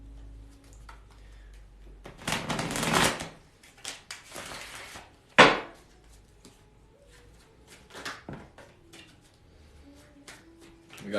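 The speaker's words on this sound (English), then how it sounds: "one more shuffle, and then we'll get to it." Tarot cards shuffled by hand in a quiet room, a long riffling burst followed by a sharp snap and a few lighter shuffles and taps, close and fairly soft.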